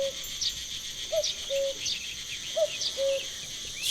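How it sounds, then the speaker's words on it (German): Crickets chirp in a quiet night scene of a point-and-click adventure game, soft repeated short trills over a faint hiss, with thin high bird-like calls scattered through. "Und die Grillen sind lauter, oder?"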